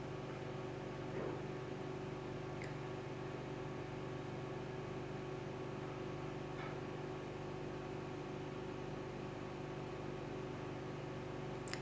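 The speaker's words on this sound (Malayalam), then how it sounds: "നമ്മൾ ആദ്യം വറുത്ത് വെച്ച തേങ്ങയും പൊടികളും എല്ലാം കൂടി നമുക്ക് മിക്സിയിലിട്ട് നന്നായിട്ടൊന്ന് അരച്ചെടുക്കണം" A kitchen mixer grinder grinds roasted coconut and spice powders for a Kerala-style chicken curry, giving a steady, even motor whir that runs unbroken throughout at a fairly low level.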